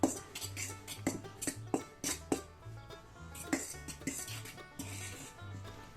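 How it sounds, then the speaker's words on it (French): A spoon or utensil stirring beaten egg into knedel dough in a bowl, producing repeated scraping and clinking strokes at an irregular rhythm, close and alone without talk. "Je commence à mélanger."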